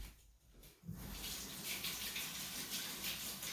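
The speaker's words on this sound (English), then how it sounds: "I'll wash my hands." A kitchen tap is turned on and water runs steadily over hands being washed, a close, continuous splashing rush after a brief quiet start.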